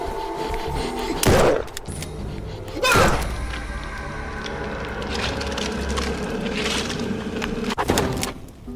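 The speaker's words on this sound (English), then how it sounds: "How many times I gotta shoot it?" Video game gunfire in a simulated war battle: a few heavy, separate bangs spaced seconds apart over a constant low background rumble.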